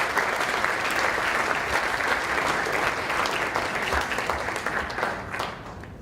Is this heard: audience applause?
yes